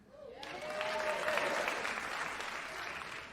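Audience at a stand-up comedy show clapping, a burst of applause that rises quickly, stays full and steady, then slowly thins, with a brief voice at the start.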